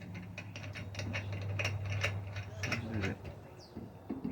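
A wheel is screwed and tightened onto a HUGROVE gasoline high pressure washer, giving a rapid run of close ratcheting clicks for about three seconds over a low hum, then a few scattered taps.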